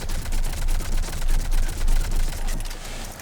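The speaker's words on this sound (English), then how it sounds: "Check the Avenger. I think we had this at the very start there." Rapid automatic fire from the Avenger assault rifle in Mass Effect 3, a steady rattling burst of loud, close shots running in pulsing groups through the whole stretch with no talk.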